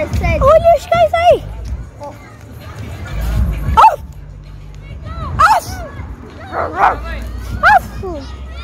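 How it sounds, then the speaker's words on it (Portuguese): Several dogs bark, yip and whine in uneven bursts nearby, mixed with people chatting outdoors. "Olha os cães aí!"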